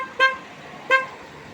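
An old GMC pickup truck horn gives two short, loud honks about a second apart, each a brief nasal blast, heard close with no talking around them.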